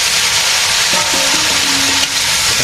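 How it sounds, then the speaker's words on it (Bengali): Plantain pieces frying in hot oil with turmeric and chili powder, heard as a loud, continuous close sizzle with a few faint clinks and tones partway through. "ভালোভাবে ভেজে নিলাম এখন কলা দিয়ে দিই"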